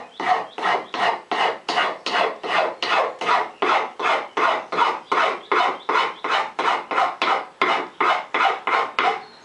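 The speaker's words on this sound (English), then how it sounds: "some high quality 320, and sand it" Rapid, rhythmic back-and-forth rasping of 320-grit sandpaper on a hand-carved wooden stool seat, about two dozen even strokes, close and steady throughout.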